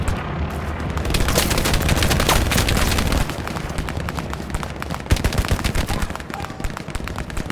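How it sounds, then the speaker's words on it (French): Dense machine gun bursts and scattered gunfire in the Hell Let Loose war game on the Hurtgen map, a continuous loud rattle with heavier booms mixed in and no clear talking. "On a deux MG là maintenant. Ils tirent dessus."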